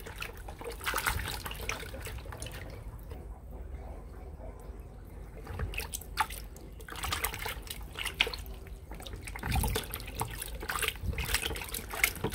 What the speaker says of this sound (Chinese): 先把它泥身上的泥给洗掉。